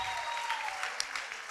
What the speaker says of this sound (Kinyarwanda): Reka twese twongera Imana amashi.